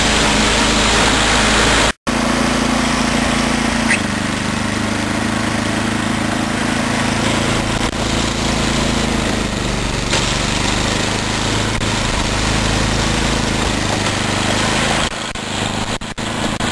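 A small snowblower engine with an adjustable carburetor runs steadily and loud at close range, with one sharp dropout near the start and a slight change in tone toward the end.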